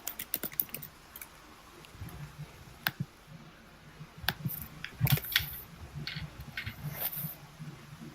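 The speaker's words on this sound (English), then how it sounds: "Ender, is that you typing again?" Someone typing on a computer keyboard during an online tabletop game session, irregular bursts of clicking keystrokes, fairly quiet and picked up by a nearby mic, with no speech.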